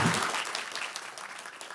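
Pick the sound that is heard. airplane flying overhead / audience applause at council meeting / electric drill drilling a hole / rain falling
audience applause at council meeting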